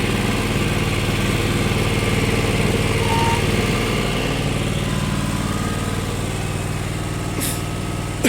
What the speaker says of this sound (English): Pretty crazy tractor.